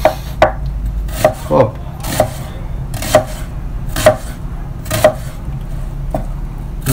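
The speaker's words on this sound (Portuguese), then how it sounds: "dá uma fatiadinha nele, no gengibre e no alho" A knife slices through garlic and ginger on a cutting board in a home kitchen, giving about nine sharp, evenly spaced chops up close with a brief voice interjection.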